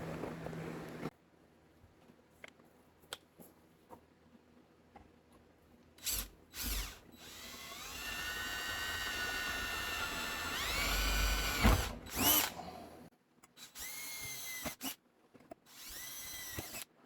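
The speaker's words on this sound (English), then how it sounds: "we got us some holes put in there so we can spot weld the ends of this to our rocker panel" A power drill bores holes in a metal cab brace in a home garage, with several separate bursts of high whining drilling separated by quiet pauses and small clicks.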